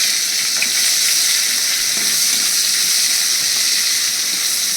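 A medium-sized chopped onion drops into hot oil for a spicy aar fish curry, giving a loud, steady, close sizzle with faint stirring clicks and no voices.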